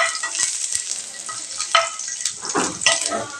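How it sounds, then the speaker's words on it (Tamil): Garlic frying in a pan for a tomato pachadi, a steady broadband sizzle with a few sharper crackles and spatters rising near the end, close and fairly loud with no voices. "பூண்டு இந்த அளவுக்கு வறுபட்டதையும் எடுத்துடலாங்க"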